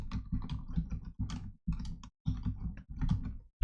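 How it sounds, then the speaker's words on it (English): Someone types a password on a computer keyboard, giving rapid bursts of clicky keystrokes close to the mic, broken by a few short pauses, with no talk. "Just type password"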